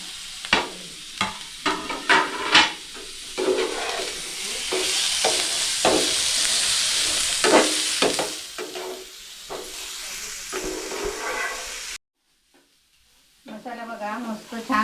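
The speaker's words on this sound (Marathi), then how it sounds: "मसाला बघा आपला चांगला भाजला आहे आता त्याच्यामध्ये टोमॅटो आणि दोन हिरवी मिरची घेतली आहे" Masala with tomato and green chili frying in a pan during crab cooking, a loud steady sizzle broken by repeated scrapes and knocks of a spoon stirring, close up, then a brief silence and a voice speaking at the end.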